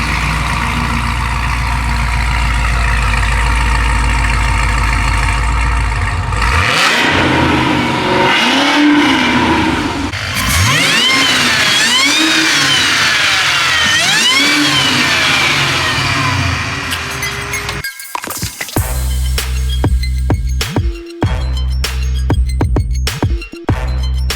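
A loud car engine with a ported supercharger idles, then revs hard several times in a row, each surge rising with a high whine before dropping back, ending in choppy bursts.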